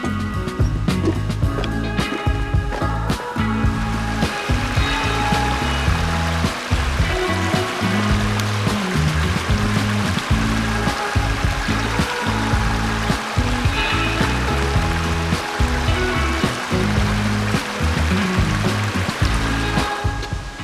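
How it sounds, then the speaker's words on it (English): Sturtevant Falls, a canyon waterfall reached by trail, gives a steady, loud rush of falling water that runs unbroken, with clattering splashes on top and no one talking. "there's the waterfall"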